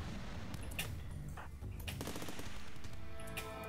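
Rapid machine-gun and rifle fire from a RimWorld Alpha 7 battle, several weapons firing at once in a dense, continuous burst with no talk over it.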